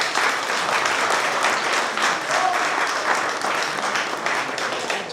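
An audience at a question-and-answer session breaks into dense, sustained applause, many hands clapping steadily for the whole stretch at moderate loudness, with faint crowd murmur underneath.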